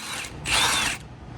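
A power tool whirs briefly while removing a wheel lock from a car, a short burst of spinning about half a second long, fairly close.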